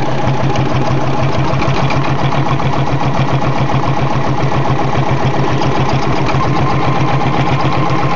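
A sewing machine stitching continuously at a steady fast rhythm, loud and close, its motor hum and needle clatter running unbroken with no voices.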